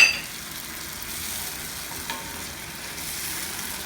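Mushrooms being stirred into a bottled sauce in a pan, a steady soft sizzle with faint scraping and a small clink partway through, no voices.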